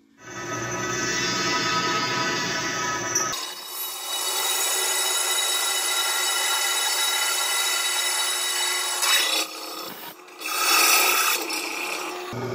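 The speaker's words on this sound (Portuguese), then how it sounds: "Eu furei primeiramente com uma broca de 10 milímetros aqui" A 10 mm drill bit boring a hole in a 1100x22 truck wheel rim, heard as a continuous harsh grinding drone that stops briefly, restarts and pauses again near the end, loud and close with no talk.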